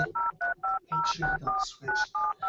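A phone keypad is dialed, giving about ten short beeping tones in a quick, fairly even sequence, each note distinct and separated by brief gaps, close and clear.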